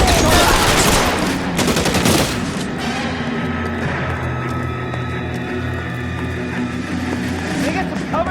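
A rapid, loud volley of gunfire in an L.A. Noire shootout, dense shots for the first two seconds, then continuing rumbling battle noise and car-like hum underneath.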